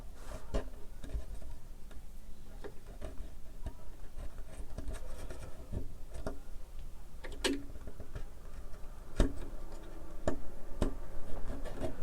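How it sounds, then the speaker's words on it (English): A razor blade trims a broken toothpick during a fret job on a 1970s Crestwood 2064 guitar, giving faint, scattered ticks and light scraping clicks at irregular intervals in a quiet room. "how it broke off and how it wants to cut with the razor blade"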